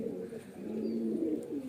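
Highflyer baby pigeon cooing softly, a low, close, steady burbling coo over quiet background noise.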